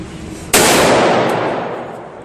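A single loud, close gunshot from a rifle fired on semi-auto cracks sharply and then decays into a long echoing tail outdoors.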